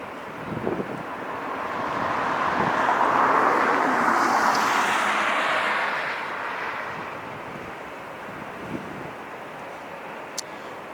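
An ANA Cargo Airbus A330 arriving at LAX, seen from the north side: a broad jet roar swells over several seconds, passes overhead and fades away, with some wind noise on the microphone.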